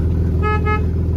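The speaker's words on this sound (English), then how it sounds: "The horn works." A Lexus IS300 car horn sounds close and loud in one sustained honk of about half a second, over a low steady idling hum.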